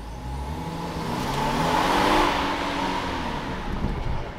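Inside a new car, the engine revs in a smooth rising and falling whir that peaks around the middle. It is loud and close, with no talking over it.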